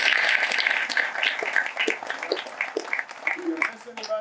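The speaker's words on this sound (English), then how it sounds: "So let's give them a round of applause." An audience at an outdoor city groundbreaking ceremony claps in a round of applause, a scattered, moderately close patter that runs under a speaking voice.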